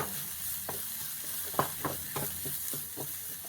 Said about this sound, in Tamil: கருவேப்பிலை, இஞ்சி, பச்சை மிளகாய் போட்டு கொஞ்சம் வதக்குங்க.